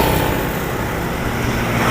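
Busy main road linking regional towns carries a continuous loud roar of passing cars and motorcycles, close by and unbroken, with no voices.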